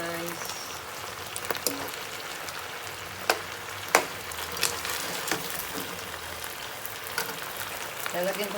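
A mixed vegetable dish sizzles and crackles steadily in a pan, a continuous frying hiss with occasional sharper pops and stirring clicks, up close and with no talk over it.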